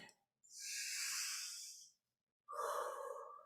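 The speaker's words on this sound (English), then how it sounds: "breathing in through the nose and out through the mouth" Two slow, deep breaths heard close up: a long airy inhale lasting over a second, a short silence, then a softer, lower exhale, with no talking.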